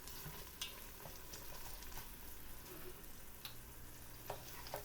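Pork stew stirred in a pot, a soft continuous sizzle and bubble with faint scraping of the spoon and a few light clinks, low and steady throughout with no voices.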